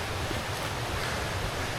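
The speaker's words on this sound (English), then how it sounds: "so that makes sense with all the water flowing" Water flows along a hiking trail on a remote backpacking route to Alabama's highest point, a steady dense rushing wash that stays constant throughout with no talking.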